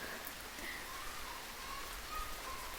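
Rain falls steadily over a residential colony, a soft, even hiss of drops with no talking, faint and continuous.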